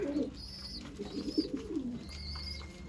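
Pigeons kept in a coop, including a nesting pair, coo with a few soft, throaty, repeated calls, close by and quiet, with no talking.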